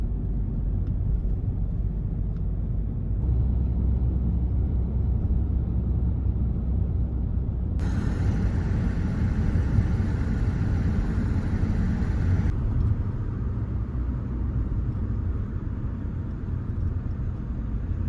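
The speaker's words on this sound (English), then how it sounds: "Sounds like the planes are coming back to refuel." Firefighting planes rumble overhead during a wildfire in Portugal, a steady broad drone that swells louder mid-way as they pass, then eases back, with no talk.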